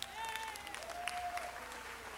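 People at a city council meeting stand and clap on request, a short burst of crowd applause with a faint voice or whistle-like tone drifting through it.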